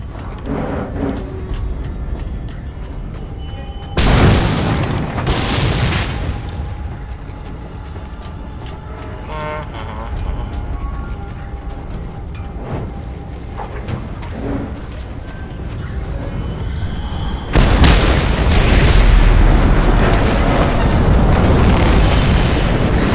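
Explosions like firecrackers in the Mad Max video game go off as two loud, booming bursts, one early and one late. Rumbling game noise carries on between them.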